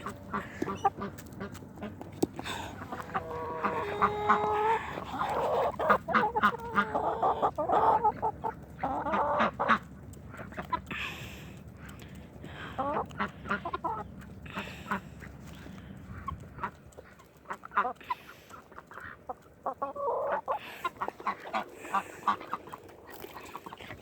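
Chickens cluck and squawk close by while pecking at scratch grains, a busy, overlapping flock chatter with louder bursts, quieter stretches and scattered pecking sounds.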